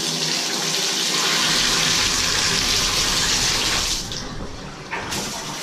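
Water gushes steadily from a newly installed shower valve in a fiberglass shower, a loud continuous spray that eases slightly near the end.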